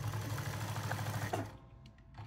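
A sewing machine stitches leather patches onto hats with fast, rhythmic needle chatter, close but fairly quiet, running for about a second and a half before stopping.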